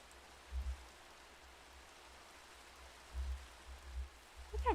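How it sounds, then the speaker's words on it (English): Steady rain in a Minecraft-style video game, a faint continuous hiss of falling drops with a few soft low thumps, heard alone without talk. "I know it's raining really bad."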